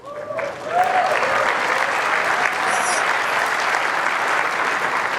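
Sustained audience applause fills a large hall at Apple's WWDC 2013 keynote, swelling after a quiet start into a dense, steady roar of many hands clapping that holds to the end.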